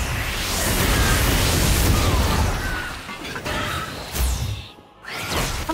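A Confringo blasting spell in Hogwarts Legacy whooshes and bursts in a dense, noisy rush of booms and crackling debris, fading briefly before another blast.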